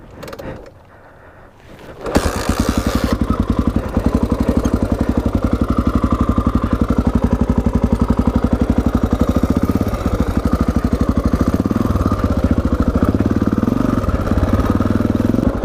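Honda XR400 dirt bike fitted with an FMF Q4 exhaust: after a short quiet moment the single-cylinder engine fires into a loud, steady, rapid thumping drone while riding, holding close and constant throughout.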